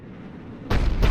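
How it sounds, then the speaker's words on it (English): A Cerberus-operated cannon in the Mass Effect 3 video game fires with a sudden loud, heavy boom after quiet low rumble, followed by a second booming blast close behind, both rolling and dense. "Looks like Cerberus got that cannon operational, Commander."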